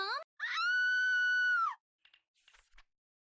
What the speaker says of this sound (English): that scream is not nice to hear over and over again